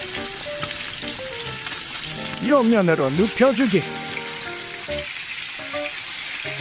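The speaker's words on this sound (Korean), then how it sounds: "후라이팬에 식용유 둘러주고 고기 껍질부터 구워주기 아삭바삭 튀기듯이 구워주다가" Oil sizzles and crackles steadily as pork belly fries skin-side down in a hot pan, with a burst of louder sputtering midway, while a voice speaks briefly over the frying.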